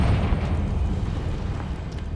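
A Confringo blasting spell exploding in Hogwarts Legacy while exploring a witch's tomb, a heavy low rumbling burst that rolls on and slowly fades, with no talk over it.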